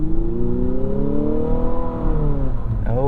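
A 2022 Infiniti QX55 in sport mode revving hard, its loud engine note climbing steadily in pitch and then dropping back as the revs fall, heard close and continuous with no talking.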